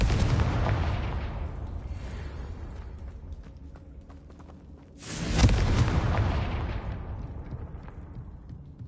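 Confringo fire spells exploding in the video game Hogwarts Legacy, two heavy booming blasts, the first fading into a decaying rumble before a second loud explosion near the midpoint rolls off slowly.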